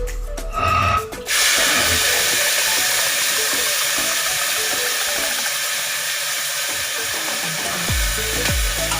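Drained whole masoor dal hits hot oil with a brief clatter, then a steady, loud sizzling hiss holds for several seconds with no voices.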